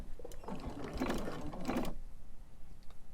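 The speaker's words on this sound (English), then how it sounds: "And then I'm just going to start sewing." A sewing machine stitches quilt binding onto fabric in a brief run of fast, whirring mechanical chatter, close and moderately loud, then goes quiet with faint clicks afterward.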